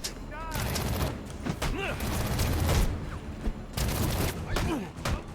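Rapid gunfire in Batman: Arkham Origins, sustained bursts of shots and booms with game effects, while someone talks briefly over the noise.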